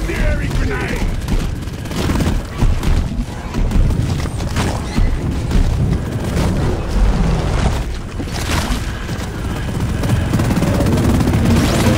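An incendiary grenade goes off in the co-op shooter Deep Rock Galactic, a loud roaring burst followed by sustained crackling fire and rumbling booms that keep churning for several seconds.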